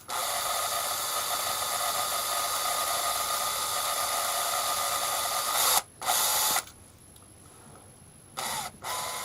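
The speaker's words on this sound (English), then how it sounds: "Here I'm drilling the boss on the rotator." A steady high-pitched whine of a power drill boring into a metal rotator part, running for several seconds, then cutting out and restarting in short bursts.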